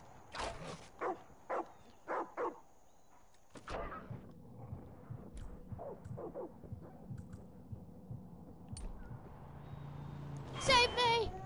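A dog in Far Cry 5 gives a quick series of four or five sharp barks, then someone talks over low game noise, with a brief harsh burst near the end.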